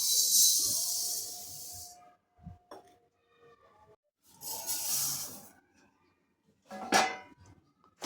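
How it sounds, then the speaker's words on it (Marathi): Sesame seeds dry-roasting in a pan over a medium flame give close, intermittent bursts of hissing, rustling sizzle with a few light clinks, separated by quiet gaps. "चला तर मग आता आपण तीळ भाजून घेऊया।"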